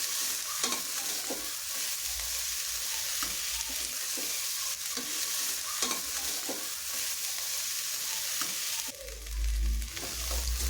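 Sprouted horse gram fries in a hot pan on high flame, a steady sizzle punctuated by repeated close scrapes and clicks of a spoon stirring.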